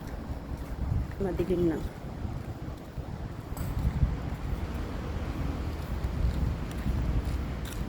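Wind gusts in a village at dusk, a steady rushing roar with microphone buffeting. A person talks briefly over it.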